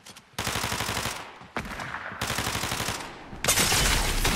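Rapid bursts of Ranger shotgun fire in a Fortnite gun game, loud close volleys in three or four dense stretches separated by brief gaps, with no talk over them.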